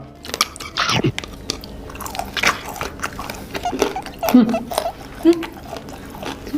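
Close, wet crunching and chewing in irregular bursts, several loud bites standing out, with a few soft vocal sounds between them.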